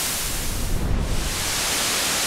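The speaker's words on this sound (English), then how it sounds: "We get to white noise, and then to violet noise." A Dave Smith Instruments Pro 2 synthesizer's noise oscillator hisses steadily and loudly, its tone brightening from fuller white noise toward thin, high-pitched violet noise, with no talking.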